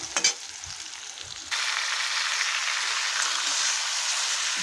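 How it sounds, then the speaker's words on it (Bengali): Chicken pieces for biryani go into a hot pan with a few stirring knocks, then a loud, even sizzle takes over and holds steady to the end. "চিকেন দিয়ে আমি ভালো করে নেড়ে চেড়ে নেব।"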